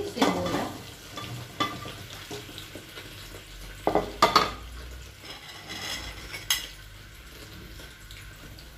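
Meat and onion fry in a pot for Moroccan couscous, a soft continuous sizzle broken by a few sharp clanks of a utensil against the pot.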